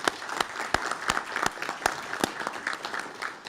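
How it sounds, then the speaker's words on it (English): Crowd applause at a Lions Club awards event honoring a newly permanent police chief: sharp, separate claps ring out over a dense steady patter of clapping hands, sustained for several seconds with no voices. "let's give him a round of applause"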